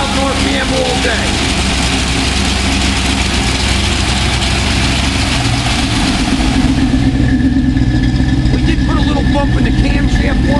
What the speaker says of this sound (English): We're right on about 800 RPM, nice vacuum.